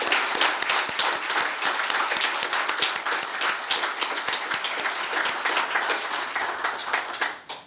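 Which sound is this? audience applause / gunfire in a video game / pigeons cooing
audience applause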